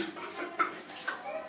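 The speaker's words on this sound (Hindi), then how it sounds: "तो अब हम पकौड़े डालने शुरू करते हैं" Pakoras dropped into hot ghee on a low flame give a soft, continuous sizzle with a couple of brief bubbling pops, faint and close.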